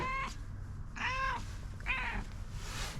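A pet cat meows indoors three times in fairly quick succession, each cry clear and moderately close, over a low steady background hum.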